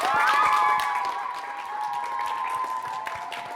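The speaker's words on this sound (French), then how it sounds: "Applaudissez si vous aimez les maths." A classroom of students at Discovery International School bursts into applause, a dense patter of many hands that peaks at the start and then holds steady at a softer level, with no speech over it.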